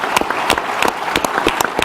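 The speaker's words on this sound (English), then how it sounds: "How about a round of applause for the top 8 that you guys voted up there today?" Loud, close audience applause at an innovation showcase and awards event, brisk overlapping claps from a crowd filling the whole moment without any talk.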